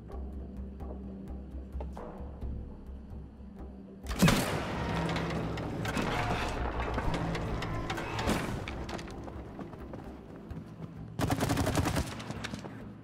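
Gunfire rings out in the co-op game It Takes Two, bursts of rapid shots around the middle and again near the end, loud against a quieter background of game ambience.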